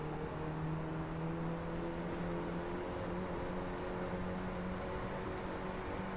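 A racing car engine in a video game running at a steady, droning pitch with a faint rise as it works up through the gears, a continuous buzzing tone with no talk.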